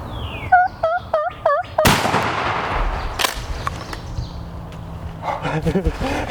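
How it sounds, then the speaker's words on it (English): Several loud, close wild turkey gobbles ring out in quick succession during a public land spring hunt in Pennsylvania, followed by a sharp shotgun blast and then more distant gobbling and rustling. "Jake, we just got a PA gobbler, buddy."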